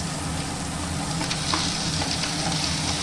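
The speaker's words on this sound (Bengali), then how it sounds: "এটাকেও আমি আরেকটু ভালো করে ভেজে নেব।" Tomatoes sizzle and fry in a pan with onion, ginger, garlic and green chilli for a kadai paneer masala, a steady close crackle with faint stirring scrapes and no talk.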